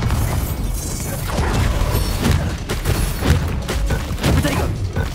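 Bombarda blasting spell explosions in the video game Hogwarts Legacy, loud crashing bursts over a dense rumbling battle bed with repeated impacts, under mixed game voices.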